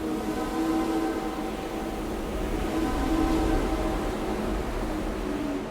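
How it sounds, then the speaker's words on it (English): A whistle blast from the cable ship Mackay-Bennett at sea, signalling nearby ships: a sustained, steady tonal blare over a rumbling background, loud and continuous throughout. "Mackay-Bennett periodically blasted its whistle as a signal to any ships in the area"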